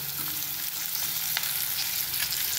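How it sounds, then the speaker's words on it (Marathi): Onion frying in a pan of hot oil in a home kitchen, a continuous near sizzle with soft crackles and occasional stirring, no voices. "आता आपण कांदा टाकूयात।"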